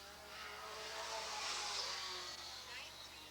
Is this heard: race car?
yes